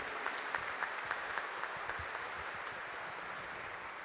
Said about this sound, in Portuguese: Uma salva de palmas à palavra do Senhor